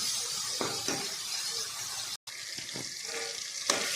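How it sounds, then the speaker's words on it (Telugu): Tomatoes frying in a pan for tomato rice, a steady close sizzle and crackle with faint clinks of a utensil, briefly cut off midway before the hissing resumes. "టమాటాస్ వేస్తున్నా ఈ ఫ్రై అయ్యాయి కదా కూడా మొత్తం ఫ్రై అవ్వాలి"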